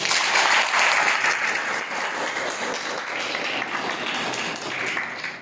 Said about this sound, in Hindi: अपने माँ बाप के सम्मान में जोरदार ताली